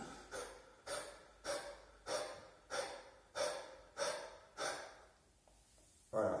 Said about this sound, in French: c'est ça la respiration du petit chien pour les femmes qui accouchent